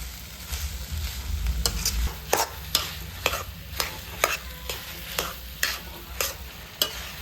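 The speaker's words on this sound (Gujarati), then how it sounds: "આ રીતે આપણે માવાને શેકી લઈશું" Mawa (milk solids) is roasted in a pan for adadiya, with a spoon scraping the pan in a steady rhythm of about two strokes per second over a low, continuous sizzle, close and clear.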